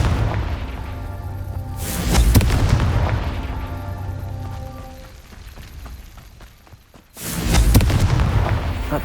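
Two heavy booming explosions from the Confringo spell in the video game Hogwarts Legacy, each a loud sudden blast with a long rumbling decay, spaced several seconds apart.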